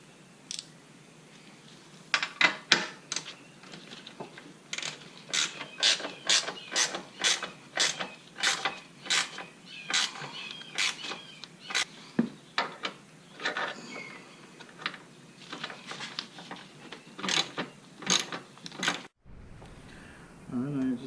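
A ratchet tightens the bolts of a Razor's Edge strut bar on a Dodge Charger, giving rapid rhythmic clicking in repeated bursts, close and crisp, with short pauses between strokes.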